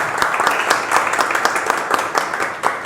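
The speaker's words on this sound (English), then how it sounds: "Okay, applaud for" Club members at a Toastmasters session clapping for a new member, a loud close burst of many hands, dense and continuous, with faint voices mixed underneath.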